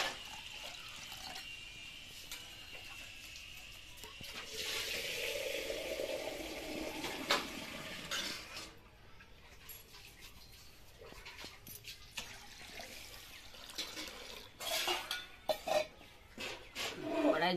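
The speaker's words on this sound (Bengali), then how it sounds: "এবার কড়াইয়ে জল দেবো" Water poured into a wok in a village kitchen while making tomato dal, a broad rushing pour in the first half followed by clinks of pots and utensils handled nearby, with no talking.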